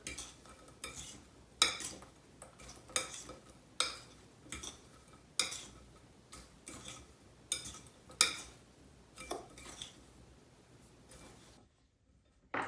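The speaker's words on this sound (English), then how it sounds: "we'll just like toss this in the sugar and flour mixture" Rhubarb and strawberry pieces tossed and stirred in a bowl of sugar and flour, with repeated soft scraping and clinking of a utensil against the bowl in an irregular rhythm, close and fairly quiet, ending in a brief near-silence.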